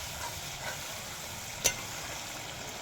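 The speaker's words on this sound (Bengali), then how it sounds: "ভাজা কিমাগুলো এবার এইভাবে একটু কষিয়ে নেব" Minced meat (keema) being stirred and fried in a pan for keema potol, a steady soft sizzle and hiss throughout with one brief sharp scrape or clink near the middle.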